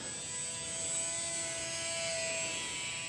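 An FMS (Eazy RC) PA-18 Super Cub 540mm RC model airplane's electric motor runs at full throttle, giving a steady high-pitched whine with a buzzing drone that holds level throughout.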